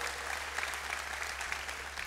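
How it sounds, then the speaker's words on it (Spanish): Church congregation applause during a sermon, a dense, even patter of many hands clapping together, with a faint low steady hum underneath. "Vamos a darle un aplauso al cielo."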